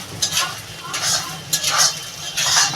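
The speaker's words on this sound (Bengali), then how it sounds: "পটকাটা আমার ভাজা হয়ে গেছে বেগুনটা দেখেছেন একদম পুরো মিশে গেছে" Fish maw and eggplant fry in a pan with a soft sizzle, broken by repeated scraping and stirring strokes of a spatula at a close, uneven rhythm.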